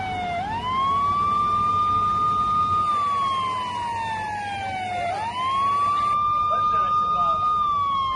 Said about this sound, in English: Sirens blare to show that the doctors haven't left.